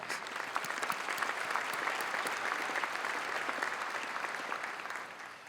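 Diners at a Missouri Sports Hall of Fame women's sports luncheon give an honoree steady, even applause that fills the banquet room at moderate volume before tapering slightly at the end.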